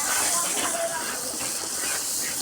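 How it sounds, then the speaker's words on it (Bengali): Ghee hits a hot pan of spiced masala and sizzles in a steady, dense hiss that stays loud and close throughout without pause. "ঘি দেওয়া হচ্ছে দেখো।"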